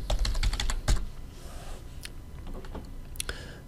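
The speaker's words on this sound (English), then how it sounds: "Typing in filter" Rapid typing on a computer keyboard while entering the AutoCAD filter command, a dense burst of clicky keystrokes at first, then sparser taps, close and clear with no talking.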